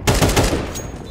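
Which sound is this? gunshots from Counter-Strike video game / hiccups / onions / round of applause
gunshots from Counter-Strike video game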